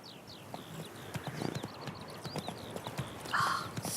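A horse's hooves clip-clop in a steady walking rhythm as the rider travels in The Witcher 3: Wild Hunt, with chirping birdsong around and a brief brighter swell near the end; no one speaks.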